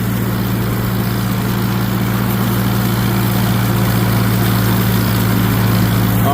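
A Farmall Cub tractor engine drones at a steady, constant speed while mowing a field, a low continuous hum close by with no talking.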